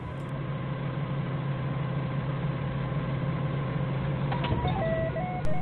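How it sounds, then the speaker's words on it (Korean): An excavator's engine idles and rumbles steadily on a muddy, soft-ground work site where a forklift keeps getting stuck, a loud, constant low drone with a brief rising mechanical whine near the end. "굴삭기가 오고 있습니다."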